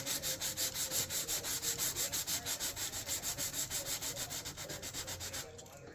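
A steam-damaged wood valance is hand sanded with quick, even back-and-forth strokes, a close rhythmic rasping that runs for about five seconds before stopping, with no talk.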